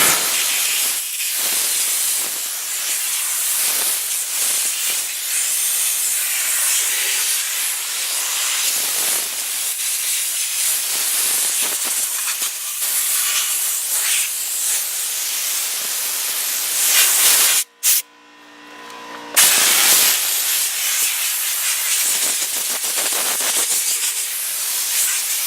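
Compressed air blasts dust off the hand-sanded frame of a fiberglass egg RV, giving a loud, continuous close-up hiss that runs nearly unbroken and cuts out briefly for about a second near the end before resuming.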